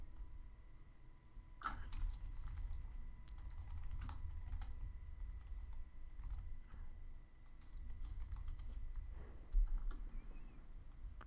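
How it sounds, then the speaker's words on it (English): Rapid computer-keyboard typing with scattered mouse clicks runs steadily throughout, close and moderately loud with a low background hum and no voices. "I was just typing"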